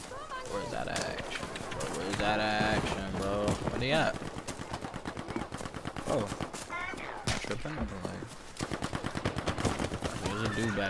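Battlefield V gunfire, rapid bursts of automatic weapon shots crackling through a busy battle, fairly close, with a player talking excitedly over the shooting.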